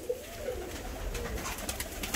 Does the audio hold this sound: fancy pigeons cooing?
yes